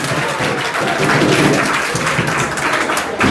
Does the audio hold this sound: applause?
yes